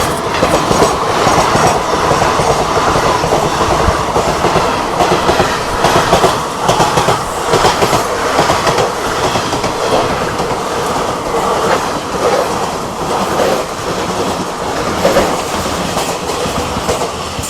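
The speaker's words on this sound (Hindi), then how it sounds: "कोई हाई स्पीड क्रॉसिंग हो रही है यहाँ पे।" Train cars clatter over rails at a high-speed crossing on the Western Railway line near Mumbai, a loud, continuous rumble with a steady clickety-clack of wheels throughout, close and unbroken.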